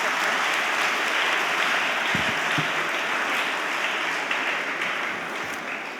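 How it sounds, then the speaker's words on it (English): Dense, sustained applause from a large audience at a school graduation ceremony for senior students, steady and loud throughout with a brief low thump partway in. "Let's congratulate our senior students with a big round of applause as they are ready to take on the world."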